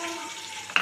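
Onion, curry leaves and green chili sizzling in a hot pan: a short, steady frying hiss with a faint voice at the start and a sharper crackle at the end.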